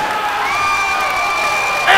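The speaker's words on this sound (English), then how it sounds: "And this crowd has come unglued." A crowd at a GCW pro wrestling event cheers loudly in a sustained roar with shrill whoops rising over it, swelling again at the end.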